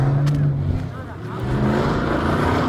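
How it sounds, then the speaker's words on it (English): A car engine revs at a busy street car meet where a driver slides around a corner, a loud, sustained growl rising and falling close by, with crowd voices mixed underneath. "Rev that shit. Rev that shit."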